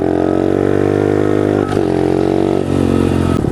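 A pit bike engine idles and revs loudly up close, a steady buzzing drone with brief dips and blips of throttle.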